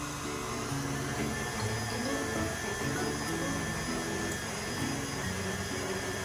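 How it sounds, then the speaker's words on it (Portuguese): An electric stand mixer beats cake batter as milk is mixed in, giving a steady, loud whirring motor drone with no break throughout. "eu baixo aqui minha batedeira e vou bater só até o leite misturar com esses ingredientes aqui"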